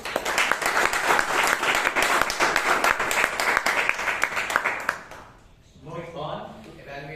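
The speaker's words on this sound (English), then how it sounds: "A round of applause to the speaker and the evaluator." Loud, sustained audience applause at a Toastmasters club meeting, following a speaker and evaluator, with dense clapping that fades after about five seconds before a voice begins talking.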